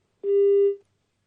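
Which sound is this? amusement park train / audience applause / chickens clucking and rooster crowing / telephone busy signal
telephone busy signal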